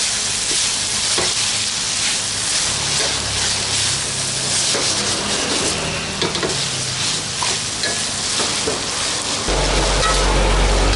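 Tilapia fish frying in hot oil in a pan, a loud continuous sizzle with crackles and occasional stirring or scraping, steady throughout with no talking.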